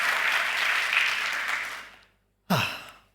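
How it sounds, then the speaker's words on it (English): Conference audience applause, a broad wash of clapping that fades out to silence, followed by a short breathy sigh-like burst near the end. "Can we get another round of applause for Karen?"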